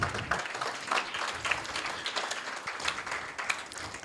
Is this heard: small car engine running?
no